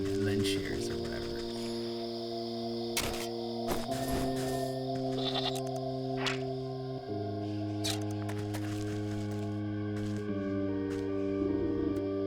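Sheep in the video game Wytchwood bleat in a few wavering calls over a steady layered musical drone, with a voice talking through the scene.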